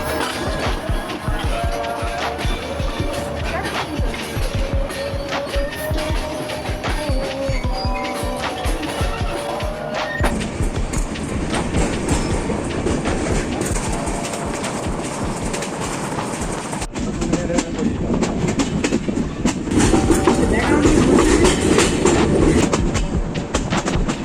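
A passenger train in Bangladesh, heard from on board, gives a steady loud rumble with rhythmic wheel clatter over the rails, continuous throughout with no talk.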